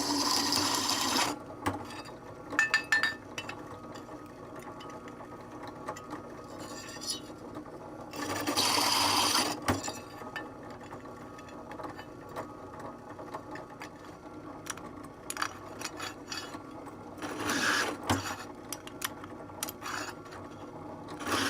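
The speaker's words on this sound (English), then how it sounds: "we will use the step drill to enlarge these holes to make it work" A step drill bores out and widens holes in a metal guitar pedal enclosure, giving a steady whirring mechanical grind that swells into louder rasping bursts at intervals, close by with no talking.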